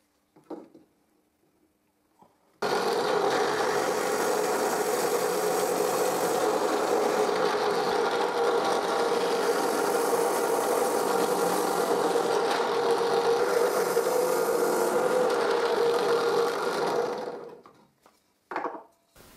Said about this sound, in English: Now I drill the 8 holes I need.